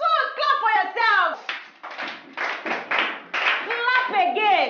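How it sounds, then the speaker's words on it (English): A classroom of children claps hands in bursts of rapid slaps, mixed with loud, excited voices talking and shouting over the applause. "Clap for yourself!"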